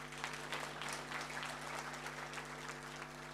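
Applause from an audience at a talk, steady clapping from many hands that fills the whole moment without a break, heard at a moderate distance under a constant low electrical hum.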